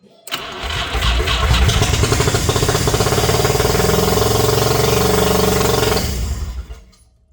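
A 1985 Mazda RX-7 GSL-SE rotary engine fires up after sitting for 24 years, cranking briefly then catching into a loud, steady, rough running roar that holds for several seconds before cutting off abruptly.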